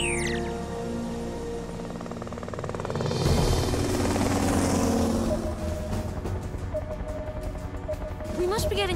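A cartoon helicopter from Transformers Rescue Bots flies with a rhythmic rotor chop that swells in the middle. Voices talk over it alongside other whooshing effects.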